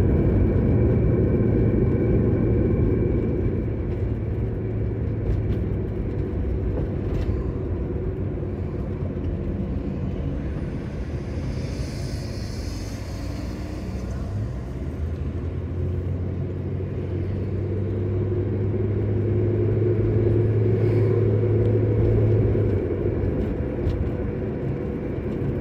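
A 1974 Dodge Dart with a sloppy, slipping transmission pulls away from a stop, its engine a steady loud low rumble that swells and shifts in pitch as it accelerates, with no talking.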